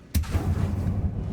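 A sharp, loud fiery blast from the Confringo spell in Hogwarts Legacy, a sudden burst followed by a rumbling, crackling tail lasting about a second, with no talking.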